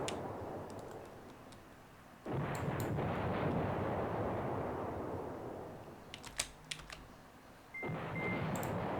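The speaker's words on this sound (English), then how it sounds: "let's just keep bombarding these guys" Artillery bombardment in the World War II strategy game Command Ops 2: two long stretches of loud, rumbling barrage noise, separated by a quieter gap holding a few sharp cracks. No voices are heard.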